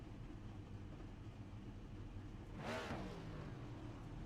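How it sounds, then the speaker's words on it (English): Race car engines rev before the start of an ISCA Thursday Cup and Super Cup Series race at Charlotte, a low steady mechanical rumble with one brief, louder rising sweep near the end, heard at a distance with no talking. "You hear the engines just revving up."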